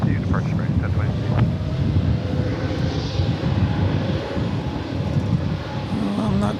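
A Spirit Airlines airliner at DFW Airport roars steadily from some distance, a broad, rumbling jet engine noise with wind buffeting the microphone, while people talk over it throughout.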